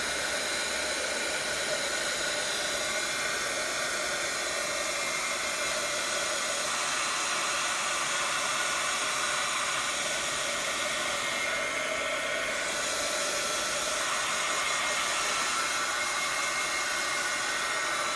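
A hair dryer runs nonstop on layers of craft paint, a steady, fairly close blowing hiss with no voices, its airflow shifting slightly as it moves.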